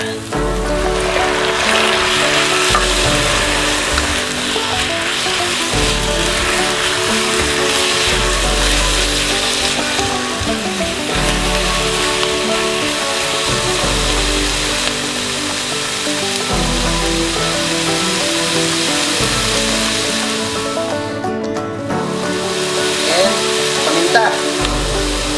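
Chicken breast fries in a pan with a loud, continuous sizzle and crackle, an even spattering hiss with occasional stirring scrapes, heard up close.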